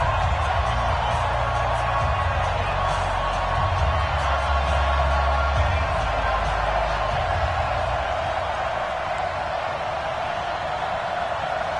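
Stadium crowd at an NFL video game matchup between the Oakland Raiders and the New Orleans Saints, a steady, dense roar of cheering that stays even and unbroken throughout with no clear peaks.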